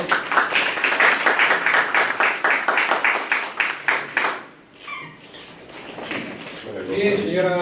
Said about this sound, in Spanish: Muy bien, aplausos para el señor.